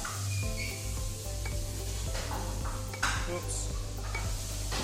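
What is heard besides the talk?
stirring pasta bake mixture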